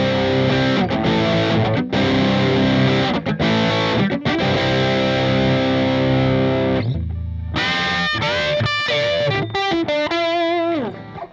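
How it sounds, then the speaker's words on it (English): An electric guitar played through a Donner Double Blades overdrive pedal gives loud, distorted sustained chords. A short gap follows, then a run of gritty notes and bends, with no one talking. "And then the overdrive again."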